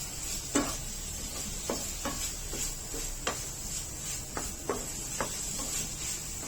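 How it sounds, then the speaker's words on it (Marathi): A jaggery and grated fresh coconut filling cooks and thickens in a pan over a low flame. A faint sizzle sits under irregular scraping and clinking strokes of a spoon stirring the mixture. "गूळ आणि खोबऱ्याचं मिश्रण चांगलं घट्टसर होऊ द्यायचंय"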